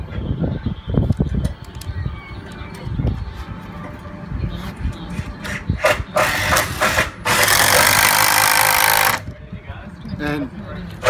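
Power drill driving screws through a bracket into a double girder truss at the top plate on a timber framing job, with short bursts and one long sustained run near the end amid close talk and site noise.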